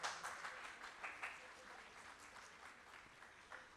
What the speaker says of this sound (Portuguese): palmas. Adoro palmas.